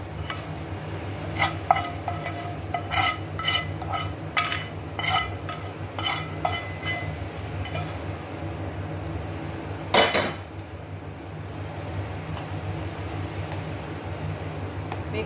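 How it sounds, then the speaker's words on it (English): Seasoning being stirred into sweet Gujarati-style raw mango pickle, with a run of metallic spoon clinks and scrapes against a pot or bowl early on and one more sharp clink later, all over a steady fan hum. "Mix it well."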